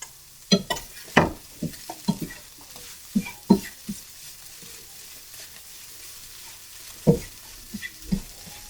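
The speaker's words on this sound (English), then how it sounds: "I'm going to mix that up." Tofu scramble being stirred in a frying pan, giving scattered scraping and clinking strokes of a utensil against the pan over a faint background sizzle, close and irregular, with quiet gaps between strokes.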